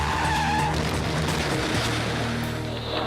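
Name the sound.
race car skidding in a spin out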